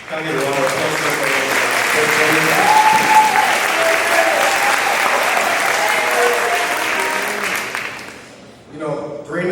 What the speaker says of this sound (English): Can I get a round of applause for